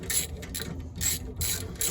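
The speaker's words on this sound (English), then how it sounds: "Turn it this way just to show you I can get that bolt loose." A socket wrench ratchets on the knuckle bolt of an AE86 during subframe and roll center adjuster work, giving quick bursts of close, rhythmic clicking separated by short pauses.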